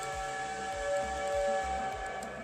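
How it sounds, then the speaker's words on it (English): A steam whistle blows near Georgia Tech, a sustained steady tone with harmonic layers that holds for a couple of seconds over a low rhythmic background rumble, moderately loud and without speech. "There's a whistle."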